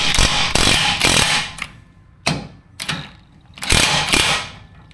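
A 13 mm wrench working the bumper hitch bolts on a Ford Super Duty truck, giving bursts of close metallic ratcheting and clicking separated by short pauses.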